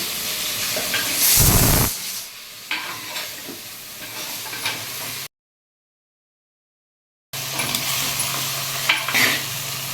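Onion and bitter gourd sautéing in oil, a close hissing sizzle with stirring scrapes and a loud burst early on, broken by a stretch of silence before the frying resumes.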